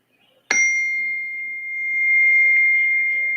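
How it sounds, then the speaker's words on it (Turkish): A telephone rings with a sharp onset, then a sustained steady electronic ring tone that holds for about three seconds, fairly loud and alone with no talking. "Ya bir dakika telefon çalıyor galiba."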